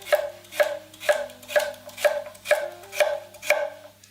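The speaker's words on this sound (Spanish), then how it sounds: "cortaríamos la zanahoria por la mitad y por la mitad de nuevo y luego lo picaríamos" A kitchen knife chops a carrot into quarters on a cutting board, eight crisp, evenly spaced strokes in a steady rhythm, close and clear with no talking.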